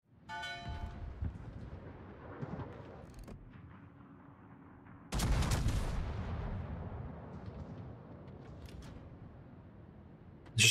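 Tier 7 battleship main guns firing in World of Warships, a heavy booming salvo that rolls out and fades slowly, preceded by a few lighter shots and distant ambient rumble.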